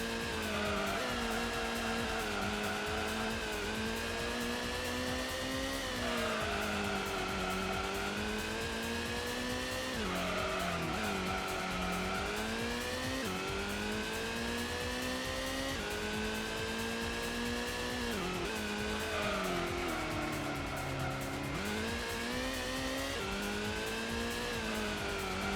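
Race cars in Gran Turismo lap the Grand Valley circuit, engines revving and shifting up and down continuously with tires squealing through corners, a loud unbroken run of motor noise from start to finish.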